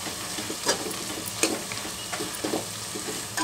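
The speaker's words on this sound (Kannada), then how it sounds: "ಈಗ ಗರಂ ಮಸಾಲ, ಅರಿಶಿನದ ಪುಡಿ, ಧನಿಯಾ ಪುಡಿ, ಇದನ್ನೆಲ್ಲ ಹಾಕಿ ಚೆನ್ನಾಗಿ ಮಿಕ್ಸ್ ಮಾಡಬೇಕು" A spoon stirs mashed tomato with garam masala, turmeric and coriander powder in a hot pan, producing a steady sizzle broken by a series of sharp scraping strokes at an irregular rhythm.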